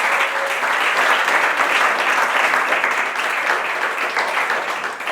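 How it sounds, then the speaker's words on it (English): A group of girls and guests at a seated discussion break into loud, sustained applause, dense clapping filling the room for several seconds before gradually tapering off slightly. "A round of applause for us."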